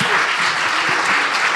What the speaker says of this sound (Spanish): Fuerte el aplauso para este panel de expertos